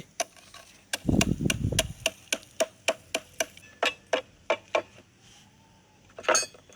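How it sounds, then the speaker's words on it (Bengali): Seeds being crushed and pounded by hand: a dozen or so sharp, evenly spaced knocks of hard material on hard material, close and clear, opening with a brief grinding scrape and ending with one last louder strike. "তারপরে বিচি গুঁড়া দিয়ে ভালো করে ছেঁচে নিচ্ছে।"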